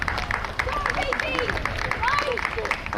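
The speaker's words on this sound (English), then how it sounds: "let's have a round of applause as we bring home Katie Pye as she closes now for the 1500 metres" Crowd applause for runner Katie Pye finishing the 1500 metres at an open track meet, with light clapping and cheering under a loud announcer's voice and crowd babble.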